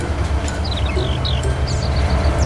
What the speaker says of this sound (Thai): ถ้าคุณชอบรถไฟจริงๆนี่เขาจะดูล้อนะเวลามันวิ่งกับรางรืดไปเนี่ย